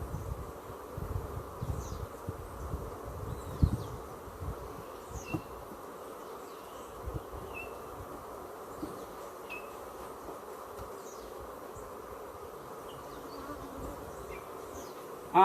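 Honeybees buzzing around an open beehive during brood frame work, a soft, continuous drone with individual bees whining past close by, plus low handling knocks and rustles early on.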